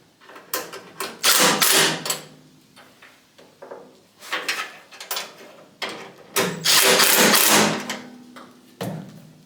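A wrench works a bolt on a rusty Atlas 10 inch table saw under restoration, giving close, bursty metallic clicking and ratcheting in uneven clusters with short pauses between turns.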